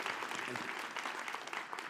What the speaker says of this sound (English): we should clap for that for sure.